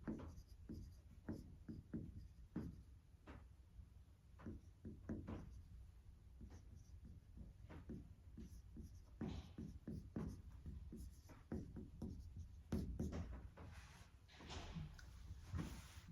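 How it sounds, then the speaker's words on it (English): A marker moves across a whiteboard in quick, faint squeaky strokes and taps, drawing a diagram in a quiet room. "I'll draw it on the whiteboard"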